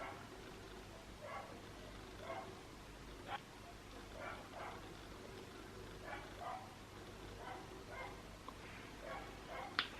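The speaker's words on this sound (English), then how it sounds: "There's one unhappy dog outside." An unhappy dog barks outside, a series of faint, distant yips and barks at irregular intervals over a quiet room.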